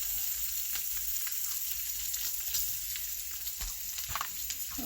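Onions frying in a pan alongside beef sausage dogs, a steady, close sizzle with crackling pops running throughout at even loudness, no voices.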